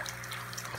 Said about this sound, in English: So water is being siphoned using this one-way check valve.